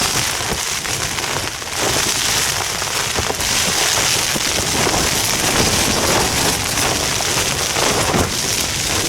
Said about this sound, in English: The wind was meant to die down when the rain started, but it's all got worse.